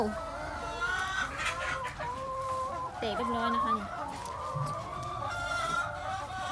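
Laying hens in a backyard flock cluck close by in repeated short, bubbling calls while someone talks over them.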